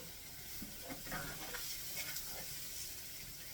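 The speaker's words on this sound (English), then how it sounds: "you want to cook that flour taste out of it" Flour cooking in a pan for a chicken and mushroom gravy, giving a soft, continuous sizzle with light stirring scrapes, fairly quiet and close, with no talking.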